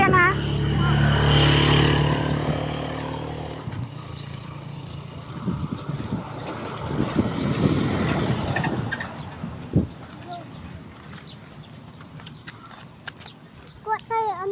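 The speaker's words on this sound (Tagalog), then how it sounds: "May sasakyan ha." A car passes by on a road near a memorial park, its engine swelling and fading under people chatting nearby, with birdsong rising toward the end.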